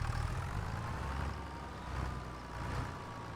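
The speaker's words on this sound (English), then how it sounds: "this tractor is a hoot to drive" A tractor engine in Farming Simulator 25 drones steadily at a low, heavy pitch, swelling slightly and easing back as it drives, close and continuous with no talk.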